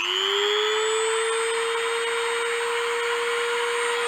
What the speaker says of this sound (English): I'm about to cut into the tube there and I really don't care.